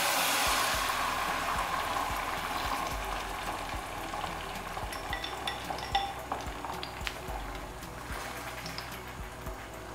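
Egg and potato omelette mixture poured into hot oil in a pan over a medium gas flame, giving a steady, fairly loud broad sizzle and hiss throughout with small crackles, no voices.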